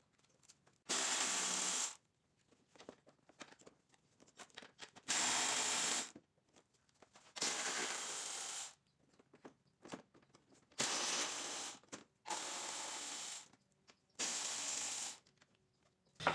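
Power tool, a drill-like ratcheting wrench, removing 10 mm bolts on an Acura RSX Type S during an AC compressor replacement, six loud whirring bursts of about a second each separated by quieter clicks and handling noise, close.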